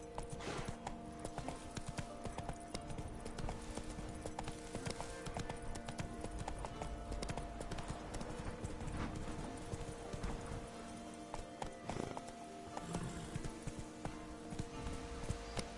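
Horse hooves clip-clop in a steady, continuous rhythm while riding in The Witcher 3: Blood and Wine, dense and fairly loud over busy in-game ambience.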